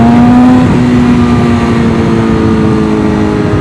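A BMW S1000RR sport motorcycle fitted with an aftermarket Akrapovic exhaust holds a loud, steady high rev, its engine note buzzing close and continuous with no talk over it.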